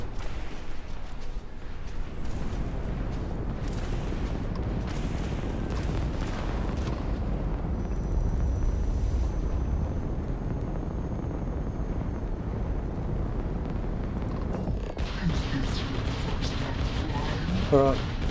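Video game combat in Starfield, with dense booming gunfire and explosions running throughout, a sharp burst near the end, and voices talking over the battle.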